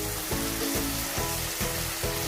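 Mutton karahi sizzles hard in a hot pan, a dense steady frying hiss broken by regular soft scraping pulses as it is stirred, close and continuous with no voices.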